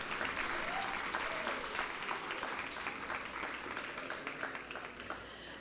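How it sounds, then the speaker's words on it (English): An elementary school anniversary audience claps for school staff in sustained, dense applause that fills the whole stretch at an even level and fades slightly toward the end. "let's give them a round of applause"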